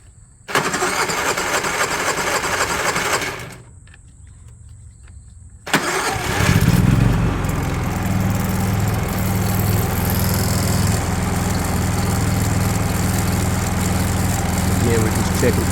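A Honda EU3000 inverter generator with a freshly replaced carburetor fires up after a brief start attempt and a pause, then settles into a steady, loud close-up running drone.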